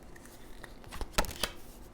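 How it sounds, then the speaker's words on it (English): A few quick riffling bursts from tarot cards being shuffled, close by and fairly soft, with two sharper rustles near the middle and quiet handling noise around them. "I'm going to shuffle y'all one more."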